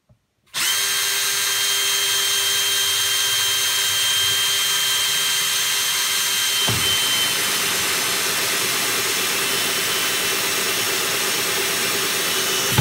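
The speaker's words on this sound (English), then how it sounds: "I'm going to go ahead and drill a hole here right above the handle" A power drill starts abruptly and bores a hole above a handle while installing a salt water station, giving a loud, steady, close whine that holds for about twelve seconds with a slight shift in tone midway.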